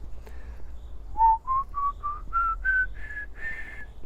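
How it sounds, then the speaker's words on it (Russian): A trumpeter whistles a rising scale of clear, sustained notes, each step a little higher, sounding close and alone with a low background rumble beneath. "Но если я сделаю опору, очень легко получается свист"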